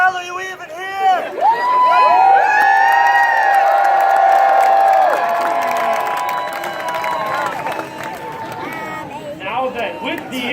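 Large outdoor crowd at a Renaissance festival jousting match cheers and whoops loudly, swelling into a sustained roar with shouts that fades into scattered hubbub near the end.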